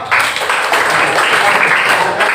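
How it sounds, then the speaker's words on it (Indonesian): A classroom of students claps for a group, steady dense applause from many hands, loud and close, lasting a couple of seconds without a break. "tepuk tangan untuk kelompok."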